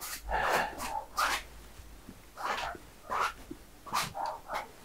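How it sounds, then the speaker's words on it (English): Dogs bark indoors in repeated sharp bursts, roughly every second, fairly close and loud, reacting to someone working outside during an oil landscape painting session. "So thank you for putting up with the dogs"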